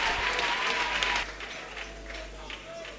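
A church congregation applauds at a French-language worship service, a dense burst of clapping that fades after about a second into a quieter murmur with scattered claps and voices.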